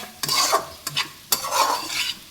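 Okra curry fries on a low flame while a spatula stirs it, three scraping strokes over a soft sizzle, close and fairly loud with no voices.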